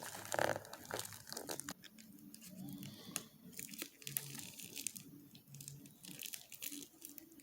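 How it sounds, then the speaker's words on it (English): Packaging around an Invicta watch, model 10973, being unwrapped, giving quiet, close crinkling and rustling with soft tearing scratches in irregular bursts, no talk. "it's time to unwrap this bad boy"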